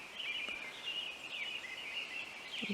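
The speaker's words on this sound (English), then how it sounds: "The birds are praising God for another beautiful morning." Birds sing in a steady outdoor morning chorus, high chirping calls layered continuously over a quiet background, with no voices.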